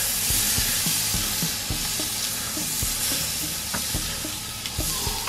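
Beef rump steak sizzles steadily on an Ozpig cooker, a dense, even hiss of frying fat with scattered sharp pops and crackles throughout, close and fairly loud with no talking.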